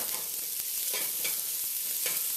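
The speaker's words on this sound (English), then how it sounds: "right away I'm going to add that garlic as well as the sliced onion. And give it a good stir." Garlic and sliced onion fry in hot vegetable oil with a steady, loud, close sizzle. Several soft scrapes of a spoon stirring the pan break through it, and no one speaks.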